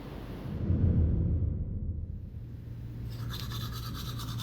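A toothbrush scrubbing teeth in a bathroom, a steady close rasping swish that lasts several seconds and grows brighter and more rhythmic toward the end, with no voices.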